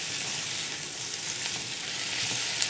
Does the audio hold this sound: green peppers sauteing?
yes